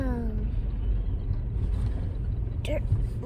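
Steady low road rumble from a car being driven, continuous and fairly loud from inside the cabin, with a short voice sound near the start and a brief sharp noise toward the end.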